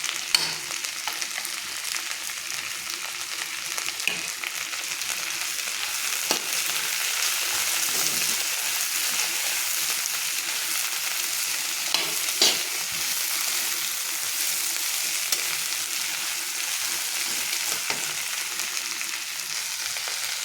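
Tomato paste fries in a pan with a steady, bright sizzle, broken by occasional soft scrapes and knocks as it is stirred, close and continuous with no voices.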